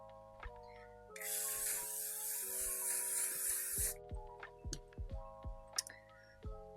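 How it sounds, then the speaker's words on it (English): L'Oreal Infallible Setting Mist spraying in one long, steady hiss lasting a few seconds, close and loud over quiet background music. "I'm going to use the L'Oreal Infallible Setting Mist."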